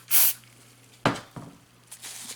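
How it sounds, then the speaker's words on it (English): Contact cleaner sprays from an aerosol can onto a ribbon cable, starting with one loud, close hissing burst. Two briefer, softer puffs follow, and there is no talking. "I'm going to go ahead and clean that up with some contact cleaner."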